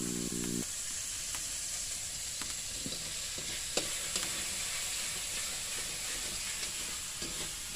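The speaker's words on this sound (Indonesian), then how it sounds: "Bumbunya aku goreng dulu sampai harum." Spice paste fries in a pan over a village wood-fired stove, a steady low sizzle with scattered soft clicks and scrapes of stirring, quiet and continuous.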